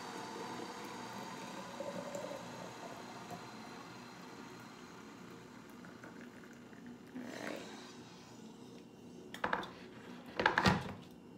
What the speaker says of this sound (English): I'm gonna go ahead and pour it into my jar